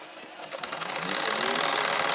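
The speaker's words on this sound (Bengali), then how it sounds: "দেখেন একইভাবে আমি ঘুরিয়ে ঘুরিয়ে সেলাইটা করে নিচ্ছি।" Electric sewing machine stitching a patterned nakshi kantha quilt from layered old cloth, its steady rapid whir starting softly and then running continuously at close range, with no voices.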